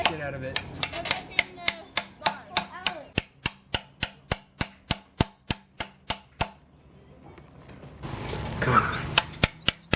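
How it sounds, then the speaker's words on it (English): Sharp metallic hammer blows ring out in a fast, even rhythm, about two dozen strikes, while installing a pilot bearing with bread packed in the hole, with a pause and then a few more among rustling noise. "Hammer the shit out of it."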